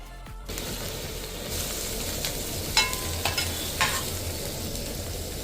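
Green garlic and green chillies hit hot oil with a steady, close sizzle, joined by a few sharp scraping and stirring clicks partway through, and no talk.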